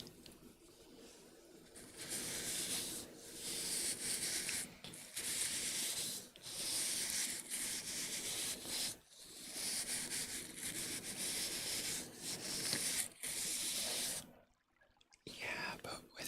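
Scuffing and rubbing sounds made for ASMR, soft close brushing strokes in long sweeps separated by brief pauses, quiet and intimate, with a low voice talking at times.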